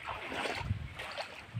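Floodwater from the Minsar river pouring onto farmland, a steady broadband rushing wash with low rumbling surges, continuous and fairly close, with no talking.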